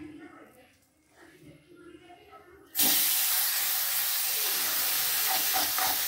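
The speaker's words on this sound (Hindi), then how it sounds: "अब इसमें हम थोड़ी थोड़ी करके मलाई डालेंगे।" Malai (milk cream) hitting a hot kadhai over medium heat bursts into a loud, steady sizzle that starts abruptly and holds on, after quieter kitchen sounds and talk.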